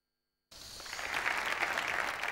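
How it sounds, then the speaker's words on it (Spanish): Applause closes a regional parliament plenary session, bursting in suddenly after silence and holding as a steady, dense clapping from the chamber. "Un aplauso ha puesto el punto y final a un pleno cargado de emociones."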